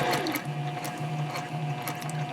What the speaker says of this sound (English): I'm just going to go ahead and sew over this original line of stitching right here